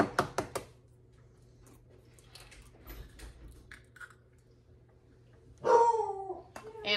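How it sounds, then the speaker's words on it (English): A family dog barks in short bursts, a quick volley at the start and another louder bark later, heard indoors in a kitchen amid faint clattering from meal prep, with no one speaking. "so I can hear our dog barking"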